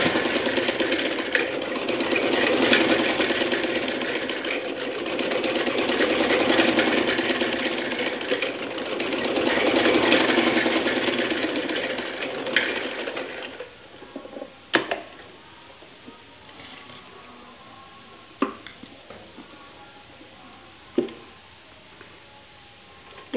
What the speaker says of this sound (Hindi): सबसे पहले तो हम सीधी सिलाई लगाएंगे इसकी।